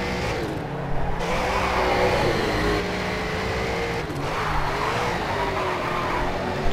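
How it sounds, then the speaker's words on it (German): Car drifting under handbrake in the racing video game Race Driver Grid: a loud, steady engine roar with a sliding tyre squeal that rises and falls, continuous and close throughout. "Schöner Drift, einwandfrei."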